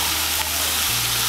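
Pieces of ash gourd sizzle steadily as they are stirred into hot oil in a frying pan, a loud continuous hiss close by with no talking.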